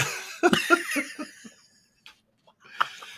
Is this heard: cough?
yes